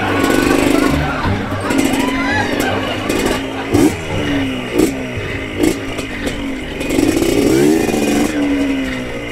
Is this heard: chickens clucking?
no